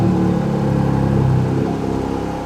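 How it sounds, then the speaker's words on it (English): A car engine that is still warming up revs quickly from a high idle, a steady, close, loud rumbling drone with no talking over it. "But I'd like you to see just how quickly this engine can get up."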